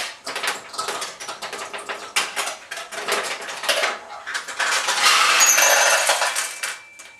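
A Nishijin pachinko machine pays out steel balls in bursts of bright metallic clattering and jingling, near and busy, building to a dense sustained rattle before trailing off.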